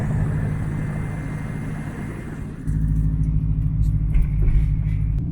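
Subaru GC8 RSTI with a CAE Ultra Shifter, engine rumbling steadily from inside the cabin at low load, a brief dip near the middle as a gear change into third occurs, then a slightly louder drone resumes.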